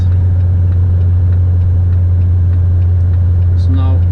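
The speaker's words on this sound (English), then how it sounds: "I'm engine braking just a little bit here" A truck engine drones at a steady low pitch while engine braking, a constant close rumble filling the cab with a brief faint tone near the end.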